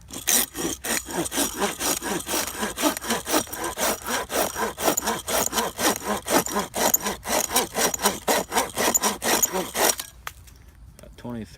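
Kobalt folding hand saw cutting through a piece of oak, steady rhythmic rasping back-and-forth strokes, close and loud, that stop abruptly near the end.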